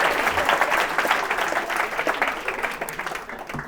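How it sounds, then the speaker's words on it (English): Audience applause at a live stand-up comedy show at The Comedy Store, a dense steady clapping from a full room that swells early and then slowly thins out, with no voices over it. "Round of applause for them."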